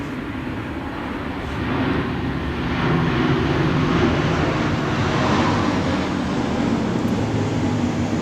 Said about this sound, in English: One bad thing about living in the city, you got all the airplanes coming around.